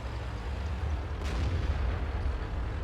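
Artillery fire in a tank video game, a distant deep boom with a sharp crack near the middle over a steady low rumble of battle background.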